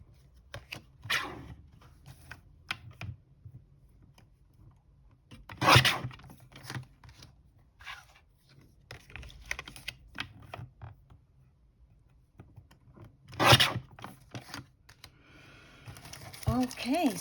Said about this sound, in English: All right, let's continue with the cutting.